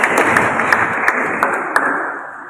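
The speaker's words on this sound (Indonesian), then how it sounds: "tepuk tangan buat teman kita semua." Applause from a church youth gathering's audience fills the room, dense steady clapping with a few sharper claps standing out, fading slightly toward the end.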